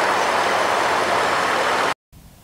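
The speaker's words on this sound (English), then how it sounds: "located under the hood of this 150, you will find a 5-liter V8 engine" A Ford F-150 pickup's 5-liter V8 engine runs at a steady idle, a loud, continuous broadband rumble that cuts off abruptly to near silence before a quieter hum returns.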